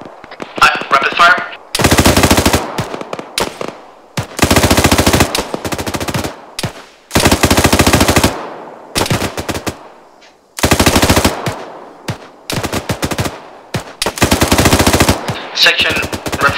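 Rapid machine gun fire in the Arma 3 military shooter game, a series of loud sustained automatic bursts separated by short pauses, with faint radio chatter and voices between bursts.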